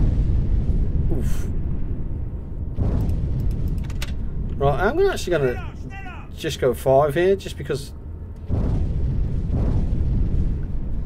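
Depth charges explode in the UBOAT submarine game, deep rumbling booms rolling underneath someone talking, fading midway and then swelling back near the end.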